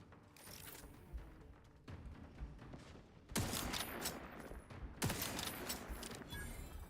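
Gunfire rings out in the sci-fi RPG The Outer Worlds 2 as rapid bursts of shots crackle under a low game ambience, with the loudest volleys toward the end, fairly quiet overall.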